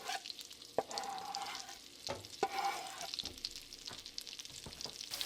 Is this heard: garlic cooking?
yes